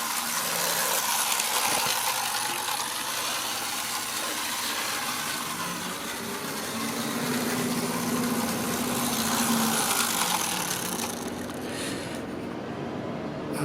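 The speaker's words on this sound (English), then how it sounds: "There's a dustman lorry outside now." A dustman lorry idles outside in a garden, its engine a broad, steady rumble with mechanical whirring and hiss, heard at a distance throughout with no one talking.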